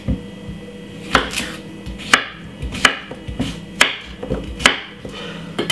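Knife chopping cucumber into small pieces on a cutting board, sharp irregular taps close by, spaced about one per second with faint background noise and no talk.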